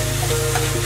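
Chicken samosa filling sautéed with spices, including garam masala, sizzling steadily and close up in hot oil with a soft frying hiss throughout, no voices.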